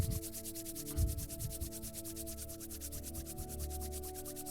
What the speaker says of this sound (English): Create a little heat with your hands.